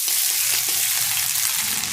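Garlic paste hitting hot oil, fried for chilli chicken: a steady, loud, dense sizzle that holds evenly for two seconds with no voices.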